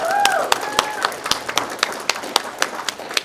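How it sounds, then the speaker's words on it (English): Crowd at a county groundbreaking celebration gives a short burst of clapping, a quick run of sharp claps that thins out within a few seconds, with a brief voice at the start. "And let's give them a round of applause."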